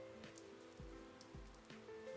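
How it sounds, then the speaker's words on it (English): Night rain in the Persona 4 Arena Ultimax video game, a soft steady patter with faint music-like tones mixed in, continuous and fairly quiet for a couple of seconds. "It's raining."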